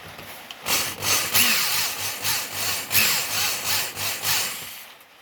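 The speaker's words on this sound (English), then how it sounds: "run a drill just very lightly on the end of it just to clean the burr off" A power drill run lightly against the cut end of a metal part to clean off the burr during a Ford Escort MK1 restoration, giving a series of short grinding bursts of roughly even rhythm, close and fairly loud.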